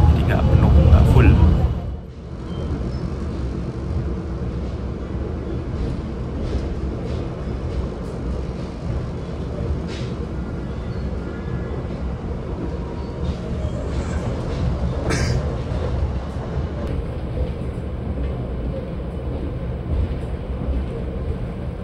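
Inside the KA Gajayana executive-class passenger train while it travels, a steady low rumble of wheels and carriage runs throughout, with a louder thump near the start and faint rattles along the way.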